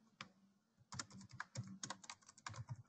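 Keys tap on a computer keyboard as a password is typed: a quick, irregular burst of close clicks after a short pause, with no voices.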